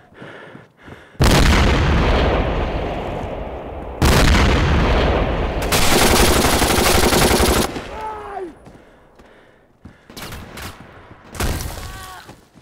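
A live bomb explodes in a video game battle, with long loud roaring blasts and bursts of gunfire alternating with short gaps, chirping effects and scattered shots, close and alone.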